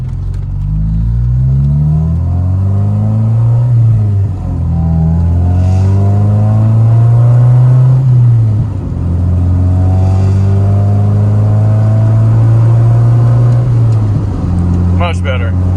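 A Honda Civic del Sol engine revs and drones through a DNA aftermarket exhaust with deep, sustained rumble, rising and falling in long pulls, loud and close throughout.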